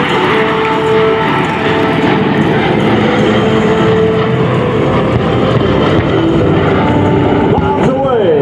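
A World War II B-17 bomber flies past at an air show, its propeller engines droning loudly and steadily, with announcer speech over the top.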